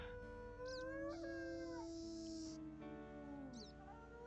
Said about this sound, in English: And I thought I heard a wolf howling quite close.